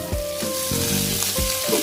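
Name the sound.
stirring fried mashed tempeh into sizzling spice paste in a pan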